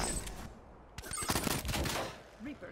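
An AK rifle fires in Call of Duty: Black Ops 3 with a quick, close string of rapid shots, loud and chattering, then trailing off.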